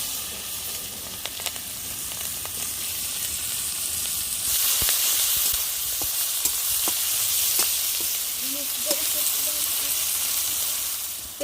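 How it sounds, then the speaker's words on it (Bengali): Chopped onions fry in hot oil with cumin, bay leaf and dried red chilli for a village-style rui fish kalia, a loud, continuous close sizzle with occasional stirring clicks, growing slightly stronger midway. "পেঁয়াজ ভাজা হয়ে গেছে"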